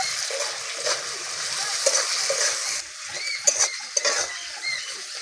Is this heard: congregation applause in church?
no